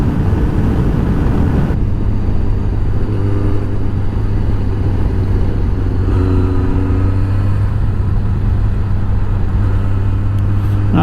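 Kawasaki ZZR600 motorcycle engine ridden through curves, a loud continuous drone under heavy wind rush, with the pitch shifting as the rider eases through bends.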